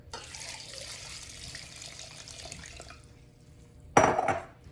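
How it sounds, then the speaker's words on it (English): Water running into a saucepan of prunes at a kitchen sink, a steady splashing stream that stops partway, followed by a brief louder clatter of the pan. "cover with water"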